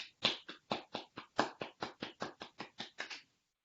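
Applause for a speaker at an online meeting: a small group clapping for about three seconds, quick separate claps with an uneven rhythm, clear and close, fading out at the end.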